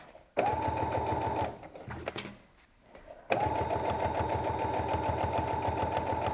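Close sewing machine running fast and steady as it stitches batting and fabric layers of a lap quilt, with a rhythmic mechanical chatter that stops for a couple of seconds, then resumes.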